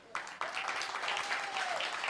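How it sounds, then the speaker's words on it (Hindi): Audience clapping at a Hindu religious discourse gathering, starting abruptly and building into steady, fairly close applause over the short stretch, with a faint tonal whistle running underneath. "तालियां बजाओ, जोश दिखाओ।"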